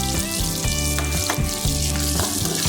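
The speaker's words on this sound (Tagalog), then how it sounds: "Labasin natin yung aroma ng ating sibuyas, mga idol." Chopped onions sauté in a hot pan for bitter melon with egg, a loud close sizzle broken by repeated scraping stirs of a utensil against the pan, with no talking.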